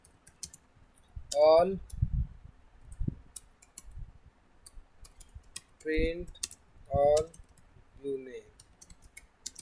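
Computer keyboard keys click in sparse clusters as an SQL query is typed, close and crisp, interleaved with someone speaking Hindi between the keystrokes.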